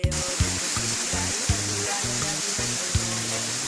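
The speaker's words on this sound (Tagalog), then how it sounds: "pang tatlong falls na to." A waterfall, the third along a river trail, roars as a steady broadband rush, while a repeating low, blocky sound pulses beneath it.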